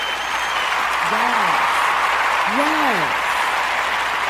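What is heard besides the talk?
audience applause for the show intro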